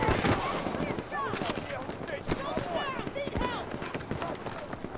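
Rapid gunfire cracks from Battlefield 2042 on a desert map, a dense stream of shots with whizzing and ricochet-like sweeps throughout, under someone speaking over the gameplay.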